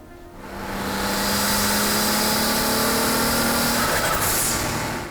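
A twin-turbo Nissan 370Z Nismo Version 1 tuned to 745 hp runs close by, its engine swelling from quiet into a loud, sustained drone with a steady tone held for several seconds, alone without voices.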